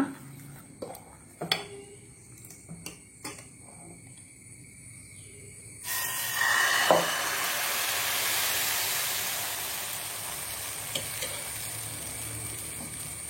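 Ragi (finger millet) aapam batter, made without soda or yeast, goes onto a hot pan over gas. A few close utensil clinks come first, then a loud, steady sizzle starts suddenly and keeps going.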